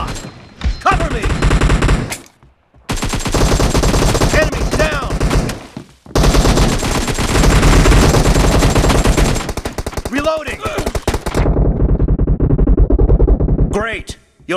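Rapid automatic gunfire and single shots from a PUBG Mobile team deathmatch, loud and nearly continuous in long bursts with brief pauses, while players' voices chatter over the shooting.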